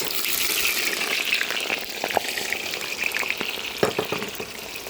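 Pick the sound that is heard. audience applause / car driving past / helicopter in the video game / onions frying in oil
onions frying in oil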